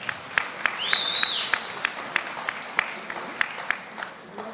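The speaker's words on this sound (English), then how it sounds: "Give a big round of applause to Pete Hegson." Audience applause at a public event with Lee Zeldin, scattered rather than thunderous, with distinct sharp claps repeating near and far over a soft crowd murmur and a faint voice.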